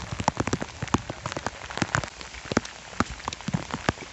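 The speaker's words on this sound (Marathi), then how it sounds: "पाच मिनिटसुद्धा पाऊस थांबला नाही आहे कंटिन्यू पाऊस पडतोच आहे" Steady monsoon rain patters on a surface during a forest trek from Panhala to Pawankhind, with irregular sharp drops tapping close by over an even hiss, no voices.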